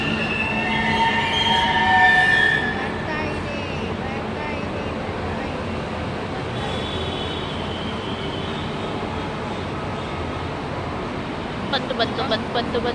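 A metro train arrives at a platform, rumbling steadily, with wheels squealing briefly near the start and a clattering of rails toward the end, close and continuous.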